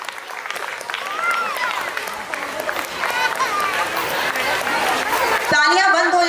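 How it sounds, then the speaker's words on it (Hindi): Loud, sustained audience applause at a school annual function, dense clapping from a crowd that continues throughout, with a voice speaking over it near the end. "भाई तालियों के साथ।"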